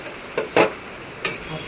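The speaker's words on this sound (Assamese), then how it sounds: "হালধি, নিমখ দি অলপ লৰাই ল'ম।" Singhara fish is stirred with turmeric and salt in a hot frying pan, with three scraping strokes of the spatula over a soft steady sizzle, one stroke louder than the others.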